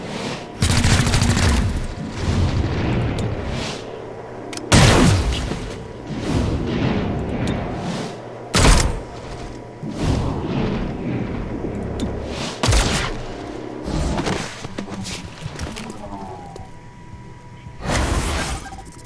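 Several sharp bursts of weapon fire and booms ring out in the tactical video game XCOM: Chimera Squad, spaced irregularly over a continuous battle ambience, with some impacts loud and others softer.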